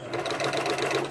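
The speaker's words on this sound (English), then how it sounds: "now we're sewing it" A 1950 classic sewing machine stitches a lace wig, giving off a steady, close mechanical whirring hum with a rapid stitching patter throughout this brief moment.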